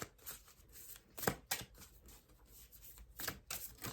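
Oracle cards are shuffled by hand in quick, riffling bursts, close and fairly quiet, with short pauses between flurries.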